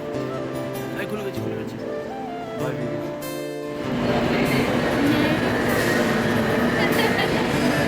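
Inside a stopped passenger train waiting for the doors to open, a steady low rumble and murmur of the carriage continue under people talking nearby, with the background growing louder and busier partway through.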